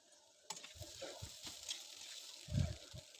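Egg frying and being stirred in a pan with browned onion and potato while making homemade chow mein; a steady soft sizzle with a few scraping stirs and a louder stir near the end.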